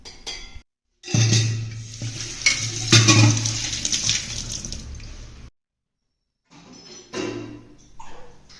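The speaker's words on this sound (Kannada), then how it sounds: "ಒಂದು ಸ್ವಲ್ಪ ಸೋಸ್ಕೊಂಡ್ಬಿಡ್ತೀನಿ." Fresh milk being strained into a vessel in a home kitchen gives wet pouring and splashing sounds in two bursts separated by a short silence, close and fairly loud.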